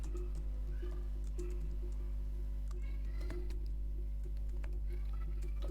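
Code is typed on a computer keyboard in a run of quiet, irregular key clicks over a steady low electrical hum, with no talking.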